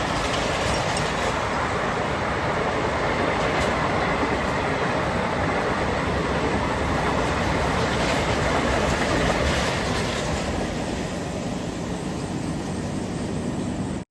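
A Nagercoil–Shalimar Gurudev superfast express train runs on the rails, a loud, steady, continuous rumble with a faint rhythmic clatter, heard as if from on board or close beside the track.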